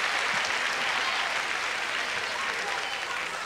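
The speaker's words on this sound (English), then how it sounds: "Give her a round of applause." A comedy-club audience at a stand-up show claps in loud, sustained applause for a comedian, with a voice talking over the crowd.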